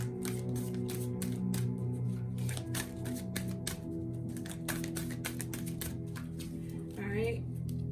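A deck of oracle cards is shuffled during a reading, giving a rapid run of crisp riffling and tapping clicks that repeat through the stretch, close up, with a low steady hum underneath.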